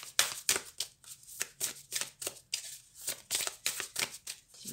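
Oracle cards shuffled by hand in a quiet room, a steady run of crisp riffling bursts with brief pauses between them, close and clear with no talking.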